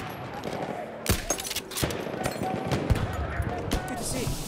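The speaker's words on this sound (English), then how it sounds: "Machine gun sighted!" Machine gun fire in the video game Battlefield 1, sharp bursts and single cracks with rattling shots, some close and some farther off, over battlefield noise and game voices.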